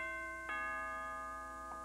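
A doorbell chimes twice, a bright ringing tone near the start and a softer repeat near the end, with sustained tones lingering between them and no talking.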